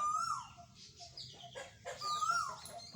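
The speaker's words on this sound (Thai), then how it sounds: "ฟังเสียงนกเลยครับ วันนี้มีนกมาหลากหลายสายพันธุ์ครับ" Roosters crow and cluck outdoors amid other birds, two drawn-out crowing calls standing out near and loud against a quiet rural background.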